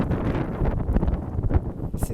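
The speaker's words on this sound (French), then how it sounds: "Il y a beaucoup de vent" Strong gusty wind buffets the microphone on Calton Hill in Edinburgh, a steady low roar with rustling surges throughout, loud and close.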